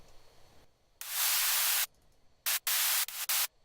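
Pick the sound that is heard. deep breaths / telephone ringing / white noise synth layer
white noise synth layer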